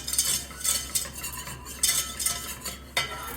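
Spices, chili powder, garlic powder and ground cumin, being stirred and toasted in a roux in a pan, with repeated scraping strokes of a utensil over a faint low sizzle.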